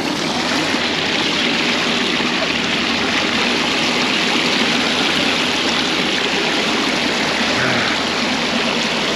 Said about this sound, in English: And then there's a little waterfall right here.